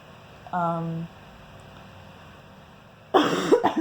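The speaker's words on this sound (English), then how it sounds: "that's the cough I was talking about" A short tonal throat sound early on, then after a quiet stretch a loud, harsh cough bursts out close by near the end.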